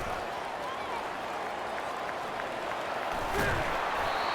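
Stadium crowd noise in the video game EA Sports College Football 25 during a punt return, a steady roar of cheering and applause that swells near the end while a commentator talks over it.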